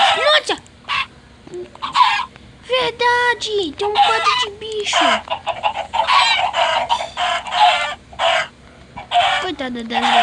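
Chickens cluck and squawk in a Minecraft game, with sharp bursts repeating under and between Portuguese speech from players.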